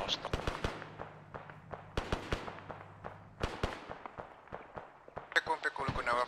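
Rapid gunfire rakes toward a village in the video game Arma 3, sharp repeated reports in irregular bursts over a low steady hum, with a brief higher burst near the end.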